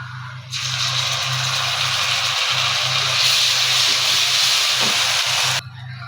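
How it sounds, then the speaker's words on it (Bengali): Fish frying in a pan for a home meal, a loud, steady hiss of hot oil that starts abruptly and stops near the end, with a low hum underneath and no talk. "আমার এই যে বাচ্চাদের জন্য মাছ ভাজি করতেছি"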